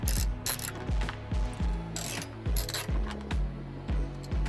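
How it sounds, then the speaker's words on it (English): Ratchet with a 10mm extension loosening tail light handle bolts on a 10th gen Honda Civic hatchback, rapid clicking pawl bursts repeating in quick rhythmic runs, close and loud throughout. "using your 10mm extension with your ratchet"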